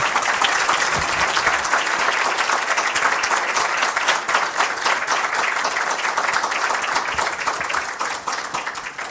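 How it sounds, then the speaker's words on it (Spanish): A conference audience applauding steadily, dense sustained clapping from many hands filling the room at a strong, even level without voices. "Un aplauso para él."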